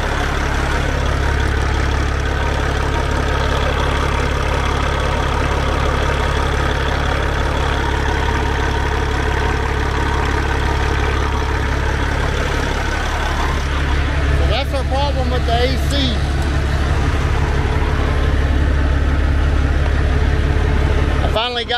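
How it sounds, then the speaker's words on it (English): A truck engine idles loudly and steadily while cargo is unloaded, with a constant low drone throughout and someone speaking over it partway through. "I gotta leave the truck running because we're unloading."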